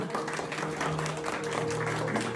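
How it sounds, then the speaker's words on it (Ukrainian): Wedding guests clap steadily and fairly faintly as a couple feeds each other bread and salt, a continuous patter of hands under a background hum. "Під наші оплески підтримуємо."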